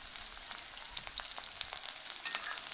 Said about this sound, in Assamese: এতিয়া দিম মই থেতালি লোৱা আদা নহৰুখিনি আৰু লগতে দিম জলকীয়া।